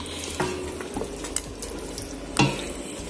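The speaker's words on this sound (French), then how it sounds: "Là, je vais donc laisser bien mijoter." A pot of homemade vegetable bouillon simmers and sizzles on the stove, a steady bubbling hiss broken by a few sharp clinks and stirring knocks.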